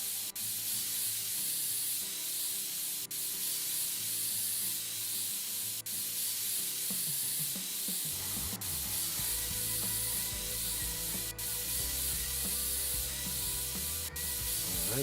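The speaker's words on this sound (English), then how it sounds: "Can of compressed air." A can of compressed air sprays a steady, loud hiss to blow dust out of a PC, with faint clicks and rattles of handling partway through.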